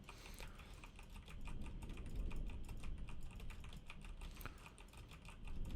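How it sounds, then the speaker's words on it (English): Rapid computer keyboard presses on the WASD keys, spacebar and R key mixed with mouse clicks during gaming, picked up by an Audio-Technica AT2020 microphone; a steady, moderately quiet clatter of many clicks with no talking. "Now pressing on the WASD key, spacebar, R key, and clicking that mouse"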